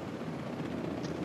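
Helicopter in the Ghost Recon Terminator live event, a steady, fairly loud rotor and engine drone with no pauses, heard alone.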